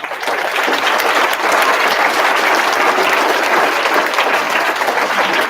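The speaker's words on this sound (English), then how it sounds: "Let's give them a big round of applause." Audience applause fills a school Veterans Day assembly, a steady, dense clapping from a large crowd that holds loud and even throughout with no voices over it.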